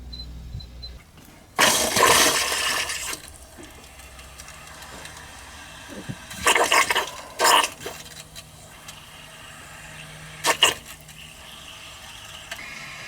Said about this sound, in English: So you can see as the water level comes up, the float will come up and actually close that.